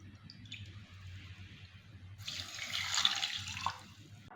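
Water runs from a tap into a saucepan already holding sugar for syrup, first a soft trickle with a low hum beneath, then a fuller splashing gush in the second half, close by.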